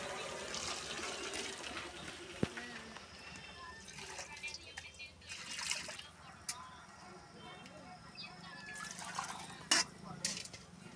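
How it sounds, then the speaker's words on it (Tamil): Water poured into a biryani pot holding a coconut, mint and coriander paste, a soft running, splashing pour with small drips and clinks, faint and close. "அதோட தண்ணி இதோட 1 கப்பு ஊற்றுறோம்"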